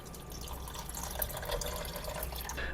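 A cup of water pours steadily into a container while cooking, a soft continuous splashing and trickling, close and fairly quiet.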